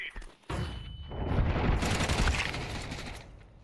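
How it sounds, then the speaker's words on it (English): Flashbang grenade thrown in a Counter-Strike 2 match, heard as a sharp hiss and clink followed by a loud, sustained crackling burst amid gunfire-like noise, close and dominant. "Throwing flashbang."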